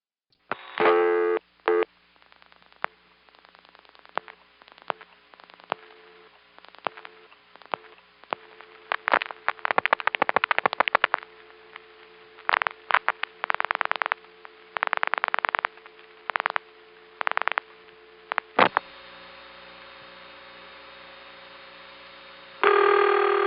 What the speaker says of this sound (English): This next call is dial pulse out, 5 digits to a step.